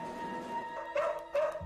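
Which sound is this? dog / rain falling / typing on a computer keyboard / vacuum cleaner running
dog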